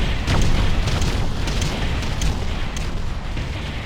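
Artillery barrage in the video game Ground Control, a dense continuous rumble of overlapping booms and blasts, loud and sustained with no clear gaps between impacts.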